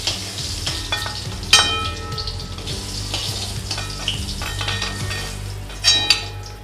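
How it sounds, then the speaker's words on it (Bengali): Fried mango pieces lifted out of hot oil in a pan, a steady sizzle with clinks and scrapes of the utensil against the pan, a couple of sharper knocks, close and without talking. "এবার আমি আমগুলো তুলে নেব।"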